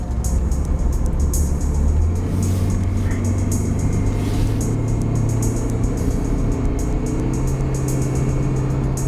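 An old hybrid car's engine hums steadily and builds as it accelerates along a road, with continuous tire and road noise throughout.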